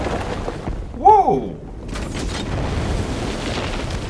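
Explosion in Batman: Arkham Knight as a factory collapses, a single sharp boom with a rising-falling burst near the middle, over a dense continuous rumble of fire and action.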